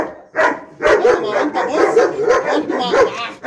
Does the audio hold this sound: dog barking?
yes